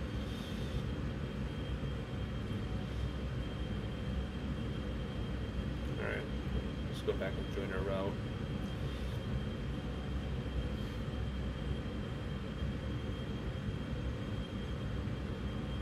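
Steady, loud jet engine roar from an airliner in the X-Plane 10 flight simulator game drones evenly throughout, with someone briefly speaking over it.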